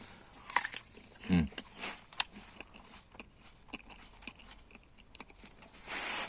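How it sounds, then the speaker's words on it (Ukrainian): Crisp bites and crunchy chewing of a Florina apple, several sharp close-up crunches early on, then quieter intermittent chewing with no talking. "От Флоріна, от я ще раз попробую її."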